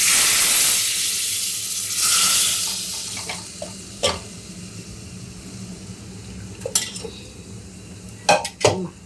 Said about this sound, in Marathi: आता हा मटणाचं सगळं स्टॉक म्हणजे ते मटण शिजवलेलं पाणी घातलं ह्याच्यात.